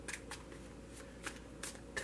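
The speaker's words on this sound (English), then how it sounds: "I'm only going to shuffle it for a moment" A tarot card deck is shuffled briefly and quietly up close, with several soft riffling bursts against a faint background hum.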